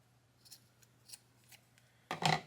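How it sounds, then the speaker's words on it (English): Scissors snip off a frayed end of cord while a bullwhip is being made: a few faint close cuts, then one louder, sharper snip near the end, alone in a quiet room. "I'm going to snip the frayed bit off"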